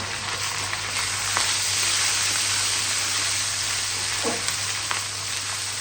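Ginger and garlic frying in a spice paste with fried onion for a masala-cooked liver dish, a steady close sizzle with occasional stirring scrapes and no talking.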